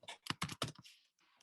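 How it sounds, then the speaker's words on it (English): Rapid keystrokes on a computer keyboard as commands are typed, a quick burst of close, distinct clicks followed by a softer trailing tap or two. "You've seen me typing all of these commands in."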